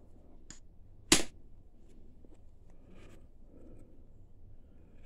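A single sharp knapping strike on raw Edwards chert from Texas, one crisp click near the start followed by quiet handling and faint rustle, close to the microphone.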